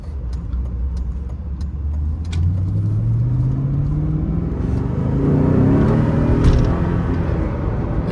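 A 2003 Dinan-tuned BMW Z8 accelerates in sport mode, its engine note climbing steadily in pitch as it pulls hard, loud and close, with a deep rumble under the rising tone and no talking.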